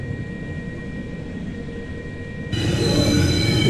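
An old R44 subway train driven in a Roblox game, producing a steady mechanical rumble and whine that suddenly jumps louder and brighter partway through as the motors rise, with no talking.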